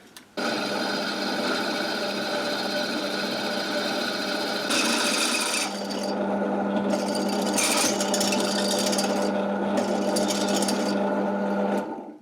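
A steady, loud mechanical whine of a drill press boring a 10mm hole straight through metal plates runs continuously for about twelve seconds, with rasping scraping surges partway through.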